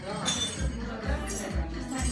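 Shards of a broken drinking glass clink as they are swept up, with light tinkles over repeated low sweeping thumps, while people talk nearby.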